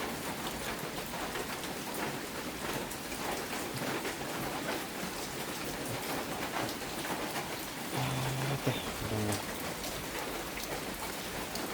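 Heavy rain falls steadily in a dense, even hiss of drops on surfaces, continuous and close throughout with no talk.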